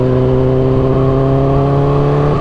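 The loud exhaust of a Kawasaki ZX-10R motorcycle hums at a steady, throbbing idle close by, edging up slightly in pitch toward the end, with no other sound over it.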